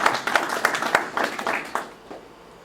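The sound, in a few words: applause for the teardown crew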